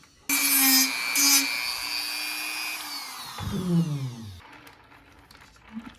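A Dremel rotary tool whines at high speed, close up, while cutting clearance into a Vanquish Phoenix RC car body, with a brief grinding bite before it spins down over a few seconds.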